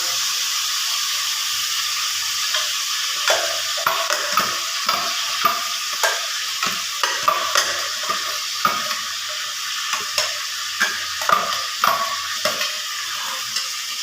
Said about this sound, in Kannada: ಇವಾಗ ಎಣ್ಣೆಯಲ್ಲಿ ಫ್ರೈ ಆಗಿದೆ ನೀವು ತೋರಿಸಿದ್ರಲ್ವ ಮಿಕ್ಸಿಗೆ ಮಸಾಲ ಅದನ್ನೆಲ್ಲ ಹಾಕ್ತಾಯಿದ್ದೀನಿ